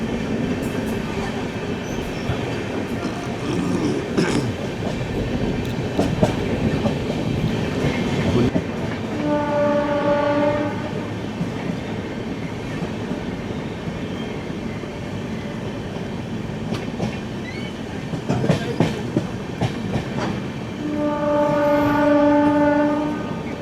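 A train runs through Kota Junction after crossing the Chambal river, with steady wheel and carriage rumble and two bursts of a loud, sustained multi-tone horn.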